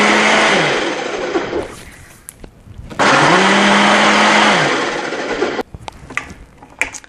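A Ninja blender whirs loudly through a thick tropical protein shake in two long bursts, motor pitch rising and shifting as the load churns, with short pauses and clunks between runs.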